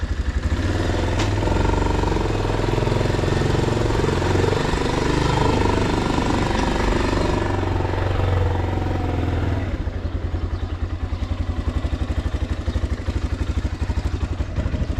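Geon X-Road Light 200 motorcycle with about 7500 km on it, riding with a loud, close, rattling engine drone throughout, easing to a steadier, lighter putter near the end.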